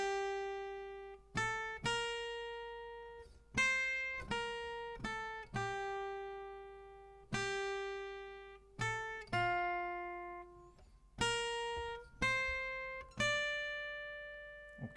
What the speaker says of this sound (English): I'm just playing on this little parlor guitar.